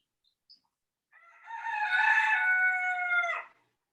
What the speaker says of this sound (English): that is Mr. Monroe's rooster